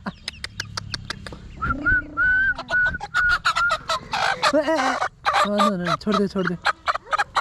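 Chickens and chicks cluck and chatter close by in a lively, irregular stream of short calls. A voice speaks briefly among them.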